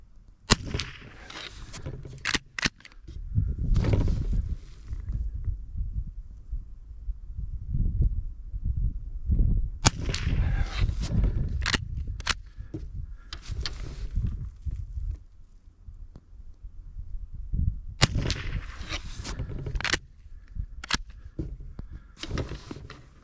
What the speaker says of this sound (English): Shoot off the 5 rounds, then we'll go take a look